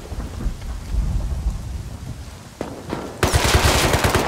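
Gunfire in the survival game Rust comes from an assault rifle. A low rumbling wash gives way to a loud, rapid burst of automatic shots near the end, with no voices.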